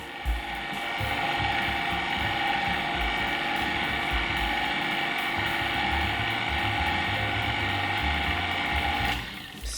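Electric stand mixer running on a low speed setting as it mixes flour into pound cake batter, giving a steady mechanical whir with a rattling, gear-like texture that continues for nearly ten seconds and then stops.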